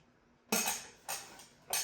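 A utensil stirs noodles into a beef dish, three short scraping clatters spaced apart in a quiet kitchen.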